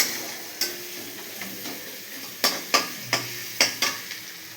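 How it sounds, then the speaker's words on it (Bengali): Onion and garlic stir-fried in a pan: a soft, steady sizzle under a run of sharp spoon scrapes and knocks, spaced irregularly and then coming faster toward the end, close and with no speech. "এবার পেঁয়াজ আর রসুনটাকে ভালো করে একটু"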